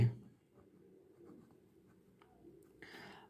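A pen or chalk writing out a differential equation solution, giving faint, quiet scratching strokes alone for a few seconds with a slightly louder stroke near the end.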